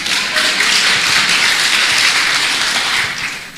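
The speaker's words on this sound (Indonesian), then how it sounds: "Tepuk tangan bagi Yesus." A church congregation applauds for Jesus, a dense, steady wash of clapping that fades slightly at the end.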